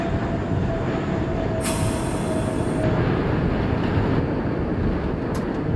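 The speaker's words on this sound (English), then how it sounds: "there is a train crossing in front of the northbound track at 2nd Avenue" An NYC Subway R32 train runs in the OpenBVE train simulator game, with a loud continuous rumble and rail roar, a high wheel squeal partway through and a brief sharp squeak near the end.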